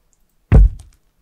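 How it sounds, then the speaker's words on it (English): A stock sound effect plays when a physics object collides with a default physical material in Unreal Engine 5: one loud, solid thunk with a short decaying tail, alone. "I'm using the collision sound. It's just an SFX I have"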